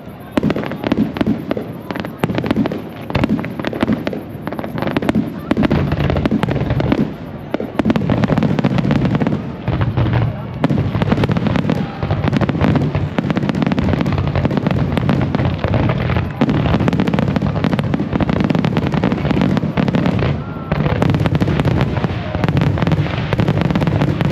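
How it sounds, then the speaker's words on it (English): Summer night fireworks burst over Lake George in a continuous barrage of booms, crackles and pops, loud and dense throughout, with faint crowd voices underneath. "the night sky lights up over the lake, fireworks that turn the water into a mirror of color"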